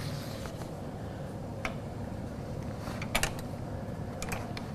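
A Brother PR1000 ten-needle embroidery machine cuts its thread with a soft mechanical whir and a few quick clicks and snips near the end, close and fairly quiet, with no talk.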